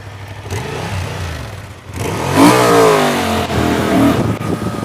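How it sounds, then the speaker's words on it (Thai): Honda XL750 Transalp 2023 motorcycle engine revving hard to high rpm, a loud close rising roar that swells in the middle and holds near the top, with some lower rumble and clatter beneath. "พอรอบยิ่งสูงปั๊บ เสียงมาแบบว่าเป็นโอ้โหจากเทพบุตรปั๊บเป็นซาตานเลย"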